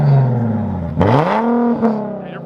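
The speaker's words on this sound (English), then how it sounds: "Rev it again." A car engine revs loudly at a car show, rising in pitch and swelling twice in quick succession, close by with a deep steady idle underneath.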